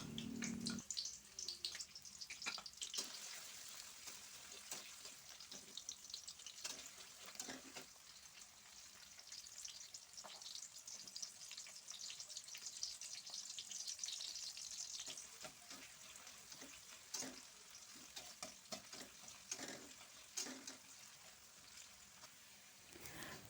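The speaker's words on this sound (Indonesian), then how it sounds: "Pertama saya panaskan minyak, kemudian saya tumis bawang merah dan bawang putih sampai harum." Shallots and garlic sauté in hot oil in a pan, giving a faint, steady sizzle with occasional stirring scrapes and clinks throughout, and no talking.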